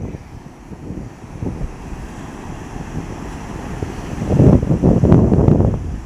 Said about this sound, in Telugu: ఇప్పుడు మీరు చూస్తున్నది ఈ కెరటాలు